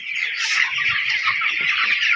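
Broiler chickens being raised for meat, close to market weight, cluck steadily as a dense flock in a poultry shed, a continuous chorus of overlapping calls with no talk.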